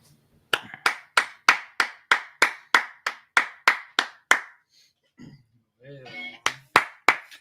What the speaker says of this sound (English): Right, clap it up, clap it up